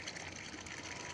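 Water gushes steadily from a pipe in Ghana, a constant rushing flow, faint and continuous with no other sounds.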